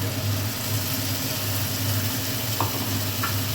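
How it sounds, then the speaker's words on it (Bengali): Masala mixed with yogurt and tomato paste sizzles in oil in a pan, a dense continuous frying hiss with a low steady rumble underneath and a couple of faint clicks from stirring, with no voices. "এটাকে আবারও নাড়বো, কন্টিনিউ নাড়তে থাকবো, দই আছে তো"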